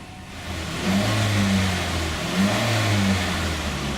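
A 2.3-litre direct-injection turbo engine in a Mazda CX-7 runs on LPG gas, a steady close hum with two gentle rises in revs, loud and alone with no talk.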